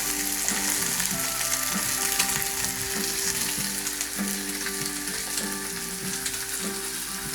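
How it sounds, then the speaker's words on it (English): Four pork chops fry fat side down in a dry pan over full heat, making a loud, dense, continuous sizzle close by with faint stirring noises, and nobody speaks. "Get your 4 pork chops together. Fat side in, no oil in the pan."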